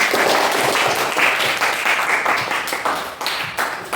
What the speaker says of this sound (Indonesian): Ya, benar, tepuk tangan.